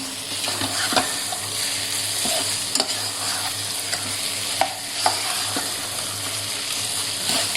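Chilli prawns in gravy stirred and fried in a pan: a steady close sizzle with repeated scraping stirs and occasional sharp clinks of the spoon against the pan, no talking.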